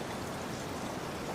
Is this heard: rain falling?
yes